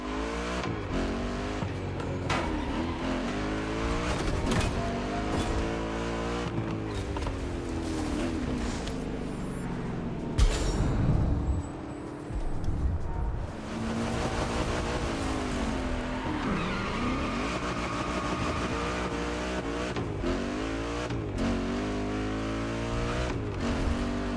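Heavily modified cars racing through city streets in The Crew Motorfest, with engines droning and revving continuously and loudly, a brief harsh burst and dip midway, then steady racing again with no talk.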